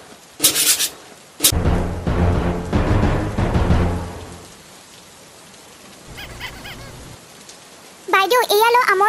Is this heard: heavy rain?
yes